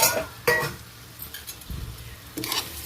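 A spoon stirs tamarind pulp mixture in a pot of fish and chickpea curry, giving a few scraping, clinking strokes with soft sizzling between them, close and alone.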